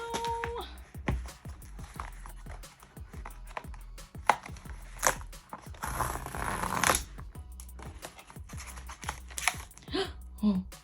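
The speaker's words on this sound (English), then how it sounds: "let's unbox this Kindle right now" A new Kindle Paperwhite 2021 e-reader being unboxed, with close, irregular crinkles, taps and rustles of cardboard and plastic packaging, clicking and shuffling in busy bursts and a louder stretch of crinkling midway.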